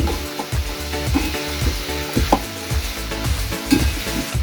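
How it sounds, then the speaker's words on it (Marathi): Thin potato slices fry in masala in a pan, a continuous sizzle broken by regular scraping stirs of a spatula, close up and steady, with no voices. "ह्या बटाट्याच्या कात्र्या या मसाल्यामध्ये छानपैकी अशा फ्राय करून घेऊया"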